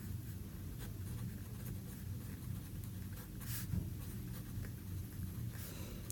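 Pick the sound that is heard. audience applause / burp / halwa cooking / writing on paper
writing on paper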